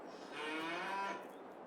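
Cattle in the Farming Simulator 22 video game give a single drawn-out moo, loud and close, heard alone.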